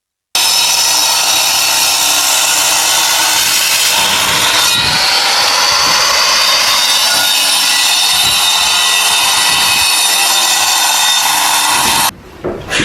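A tool grinds loudly and continuously at old brickwork, teething it out on a house renovation site, then cuts off sharply at the end.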